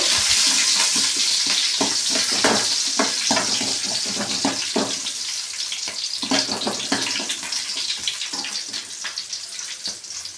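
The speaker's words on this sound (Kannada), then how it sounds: "ಜೀರಿಗೆ ಹಾಕ್ಕೋತಾ ಇದ್ದೀನಿ ಬೆಳ್ಳುಳ್ಳಿ ಹಸಿಮೆಣಸಿಕಾಯಿ ಚೆನ್ನಾಗಿ ಬಾಡಿಸ್ಕೋಬೇಕು" Cumin, garlic and green chillies frying in a pan, a close, steady hissing sizzle with crackling pops throughout, dense at first and easing slightly toward the end.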